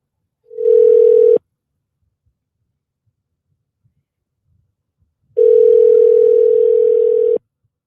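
Steady telephone dial tone on a phone line as a call is placed, sounding in two loud, even bursts, a short one near the start and a longer one later, with silence between and no talking.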